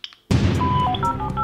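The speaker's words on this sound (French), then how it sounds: "nous allons appeler Karl de chez LV3D pour faire le tirage au sort en direct avec nous" A phone dialing out to place a call, a short run of electronic tones over a loud burst of noise after a brief quiet start.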